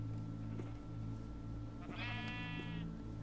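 A Minecraft sheep lets out one clear, fairly loud bleat midway through, set against a steady low in-game hum.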